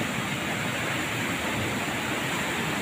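Floodwater from an overflowing river during a monsoon storm pours down in a steady, loud, broadband rush that never lets up, with no voices.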